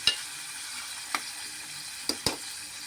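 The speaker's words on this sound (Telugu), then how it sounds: "అది అలా అయితే ఫ్రై అవనిద్దాం." Crushed garlic, cumin, onion, dried chili, curry leaves and a little coriander frying in a pan: a faint steady sizzle with a few sharp spoon or spatula clinks on the pan, no talk.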